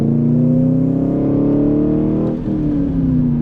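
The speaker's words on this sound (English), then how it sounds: "That's what it sounds like inside the car." Loud, droning engine and exhaust note rising in pitch as a car accelerates, heard from inside the cabin, with a brief dip before continuing.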